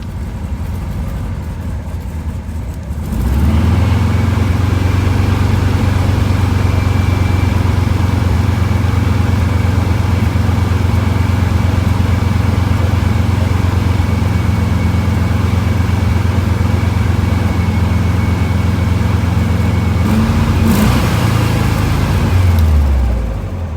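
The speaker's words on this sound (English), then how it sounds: "Getting ready to start it up." A 1973 VW Thing engine cranks and catches after a few quiet seconds, then settles into a loud, steady close-up idle that runs on before revving slightly near the end.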